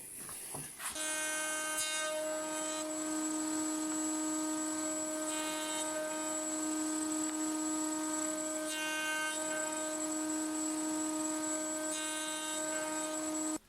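A handheld router cuts along a template on an end grain jig, with an MDF backboard behind the workpiece. The motor whines at a steady, loud, high pitch after a brief spin-up, with faint cutting variations as it moves along the side.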